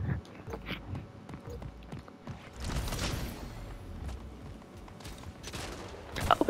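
Bursts of rapid gunfire in the sci-fi arena shooter Splitgate, scattered sharp shots and clattering footsteps at varying distances, with a louder volley in the middle and near shots at the end.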